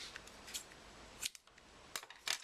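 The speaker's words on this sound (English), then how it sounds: "I'm just going to take my scissors" Several quick scissor snips trimming ribbon, close and crisp, in short bursts with brief pauses between them; no talking.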